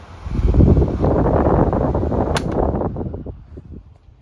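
Galaxy 12-inch oscillating fan, model 2150 with a riveted motor, spinning down after being switched off: a loud close whooshing rumble with a sharp click partway through, then the airflow gradually fades, no talk.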